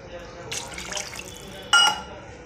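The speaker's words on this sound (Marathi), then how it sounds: "आता थोडं गरम पाणी घालायचं" Hot water is poured into a pan of onions and tomatoes for Maggi noodles, a short splashing burst after quieter trickling, close by.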